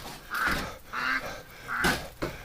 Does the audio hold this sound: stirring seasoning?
no